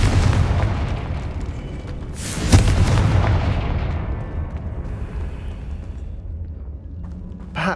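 Confringo fire spell explosion in the Hogwarts Legacy video game: a dense, roaring blast with a sharp burst partway through, then a long rumble fading away, loud and without speech.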